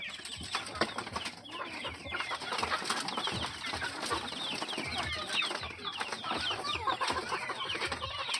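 Native chickens cluck busily at feeding time on a farm, a dense, continuous chorus of close clucks and chatter with occasional wing flaps.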